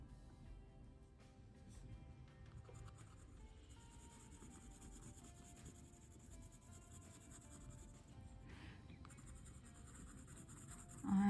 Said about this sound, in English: combining this regular colored pencil with glitter pen